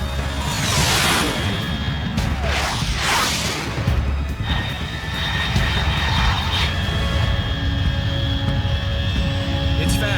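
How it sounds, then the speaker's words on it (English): A fast aircraft roars overhead in the stealth video game Metal Gear Solid 3: Snake Eater, a loud sustained jet rush with sweeping whooshes early on, steady engine noise throughout and a radio voice speaking. "Unidentified aircraft detected."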